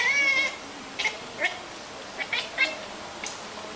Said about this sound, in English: That's a Bengal cat, I guess.